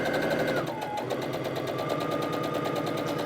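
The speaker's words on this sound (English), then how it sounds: "I've got my sewing machine set up to sew a scant 1/4 inch seam" Sewing machine running steadily to stitch a scant quarter-inch seam along marked lines on a charm-pack quilt block, a continuous close mechanical whir with a rapid needle rhythm and no talking.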